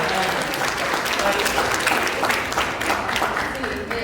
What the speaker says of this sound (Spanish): Y el aplauso vino a cerrar.